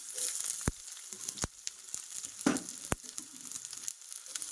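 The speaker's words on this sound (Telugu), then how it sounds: "వేసేసుకొని బాగా వేపుకుందాము. చూడండి ఇవి చాలా ఎర్రగా దూరగా వేగిపోవాలి." Onions and green chillies frying in a pan for coriander rice, a quiet close sizzle with a few sharp clicks and scrapes of the spoon, with no speech.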